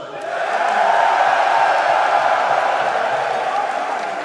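Large esports arena crowd at the Counter-Strike grand final of Intel Extreme Masters Dallas 2023, MOUZ versus ENCE, roaring and cheering in a loud, sustained wall of noise that swells and holds steady throughout.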